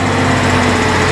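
Steady, loud drone of two dump truck engines straining up a steep slope while towing, with a constant low hum and strong vibration nearby.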